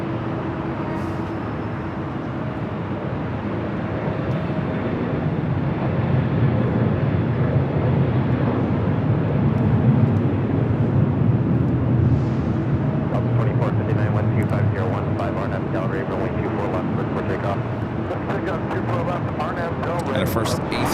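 A Qatar Airways Airbus A350-1000 bound for Doha rolls for takeoff on the south side at Los Angeles airport, a broad, steady jet roar building and holding throughout while someone talks over it.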